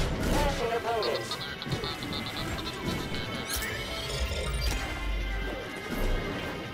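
A smashing hit on an opponent in the game Star Wars Jedi: Fallen Order: crashing, thudding impacts and scuffling effects that recur in loud bursts over busy game music, with brief shouts from characters.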